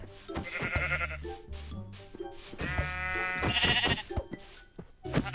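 Several loud Minecraft sheep bleats in quick succession, close by, with short gaps between the wavering cries.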